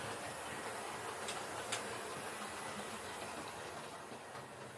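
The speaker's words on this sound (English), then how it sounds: "Now we're going to run the Baby Warship in" A model Baby Warship diesel locomotive runs on a layout with a steady whirring hum and faint light ticking of wheels on track, plus a couple of small clicks, at an even level with no talk.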